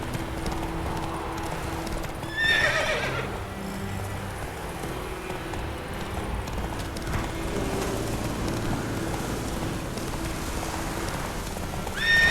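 The horse Roach gallops in The Witcher 3 with steady hoofbeat clip-clops and a brief whinny, under a background of rain and ambient game sound.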